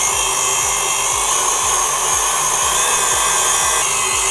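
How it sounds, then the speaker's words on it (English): A whisk beating apple filling for macarons in a bowl, a steady, continuous scraping whir with faint rhythmic strokes, loud and close throughout with no talking. "Let's go ahead and whisk it."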